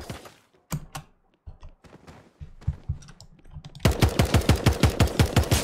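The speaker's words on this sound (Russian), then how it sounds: "Я себя чувствую глупым, когда я стреляю в этой игре." Rapid bursts of video game gunfire, sparse and scattered at first, then a loud, fast rhythmic volley of repeated shots near the end.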